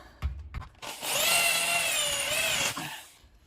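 A triangular drill bit bores into a ceiling while a clothes rack is being installed: a few short knocks, then a loud, steady grinding whine for nearly two seconds before it cuts off.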